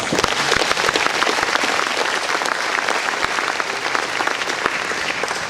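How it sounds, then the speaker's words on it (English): A luncheon audience gives sustained, dense applause, many hands clapping steadily and loudly throughout with no voices on top. "Please give them all a round of applause."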